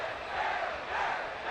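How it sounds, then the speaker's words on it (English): A dense, roaring crowd of fans swelling in a Chicago Bears American football video game as the offense enters the red zone, a continuous surging wash of cheering with no distinct voices. "Hear the fans getting hype in the crowd in the red zone."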